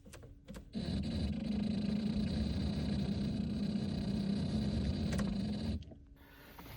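Faulty cooling fan on an older Mercedes switching on, a sudden loud, steady droning whir with a tonal whine that runs for about five seconds and then cuts off abruptly.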